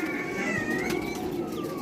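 Ferozpuri pigeons cooing close by, a soft throaty warble running through the short moment with a faint rustle, no talk over it.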